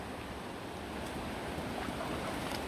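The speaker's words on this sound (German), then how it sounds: "Die Stromschnellen sind doch ganz schön stark hier." Strong river rapids in the Black Forest make a steady, broad rushing roar of water, close and continuous with no talk.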